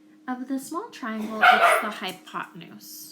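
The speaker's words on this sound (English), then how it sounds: "I'm really sorry about my dog." A pet dog barks and yips repeatedly nearby, its sharp calls overlapping a voice as he explains a geometry lesson.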